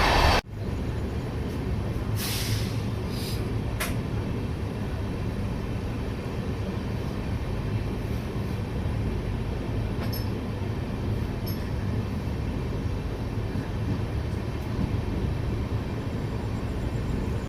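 Steady rumble of a passenger train running from Malda toward Sealdah, leaving Jangipur station, a continuous low rolling roar with brief higher clicks and rattles throughout, no voices.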